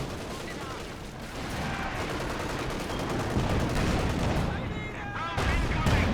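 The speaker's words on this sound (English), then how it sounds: "Whoever said that obviously has never tried firing a Pac 40" Pak 40 anti-tank gun firing in Company of Heroes 2, heavy booming shots and battle gunfire rolling over each other, with a commentator talking over the din.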